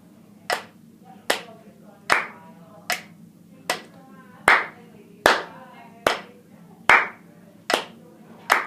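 Single pair of hands clapping in time with a metronome set to 75 BPM, eleven crisp, evenly spaced claps close by in a quiet room, with a faint steady hum underneath.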